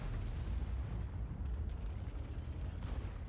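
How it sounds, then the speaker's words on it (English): Artillery shells pounding a tank in World of Tanks gameplay, heard as a dense, continuous low rumble of explosions, loud and close, with no distinct separate blasts. "I want to point out I am very much getting pounded into the ground by artillery"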